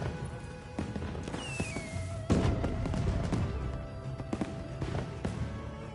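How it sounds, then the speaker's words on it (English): Fireworks fired in Monster Hunter: sharp pops and a whistling rise followed by a heavier burst, with scattered crackles and thuds over a background of game ambience, moderately loud. "You can shoot your own fireworks."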